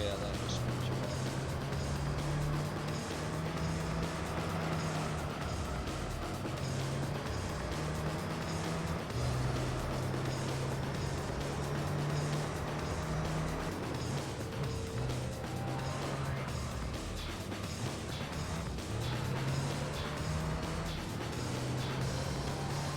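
The engine of an LMP Dragon race car in Gran Turismo 3 hums and revs continuously, pitch rising and dropping with gear changes, while a person talks over it.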